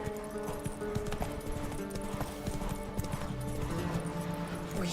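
A horse gallops in The Witcher 3, its hooves beating a fast, even clip-clop that stays steady and close across the whole stretch with no talking.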